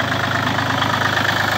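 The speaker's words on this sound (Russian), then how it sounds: "Классная работа двигателя." Small ISEKI TU1 four-wheel-drive diesel mini tractor engine idling at neutral, a close, loud, steady clattering rumble with even rhythm and no voices.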